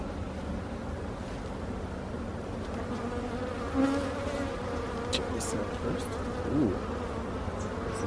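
Honey bees swarm around an open hive during an inspection in Jamaica, a dense steady buzzing drone heard close up, with individual bees whining past now and then.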